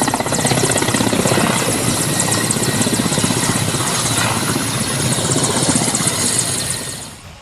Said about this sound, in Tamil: இதில் ஹெலிகாப்டரை இறக்கி சோதனை ஓட்டம் மேற்கொள்ளப்பட்டது.